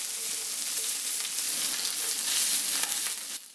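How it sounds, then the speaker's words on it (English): Garlic and preserved radish (cai po) frying in a pan for Singaporean fried carrot cake, a steady bright sizzle and crackle that holds evenly and then drops off at the end, with no talking. "I'll make a hole in the center just as before to fry the garlic"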